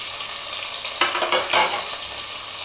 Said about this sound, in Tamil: தக்காளியும் நல்லா வதங்கிடுச்சு.